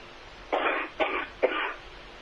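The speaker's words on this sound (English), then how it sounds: "That's a terrible old cough" Three harsh, raspy smoker's coughs in quick succession, close and fairly loud, with short pauses between them.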